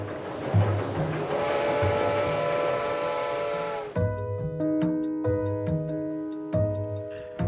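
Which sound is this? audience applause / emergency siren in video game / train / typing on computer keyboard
train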